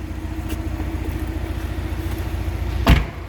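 A 2017 Porsche 718 Cayman idles steadily nearby with a low, even engine rumble throughout, interrupted near the end by a single sharp thump.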